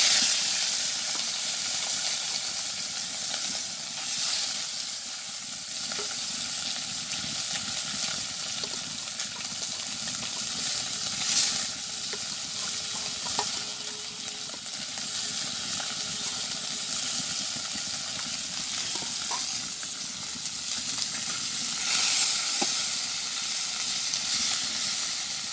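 Small local fish frying in oil in a village kitchen, a loud steady sizzle and hiss running throughout with occasional faint clinks and bubbling pops.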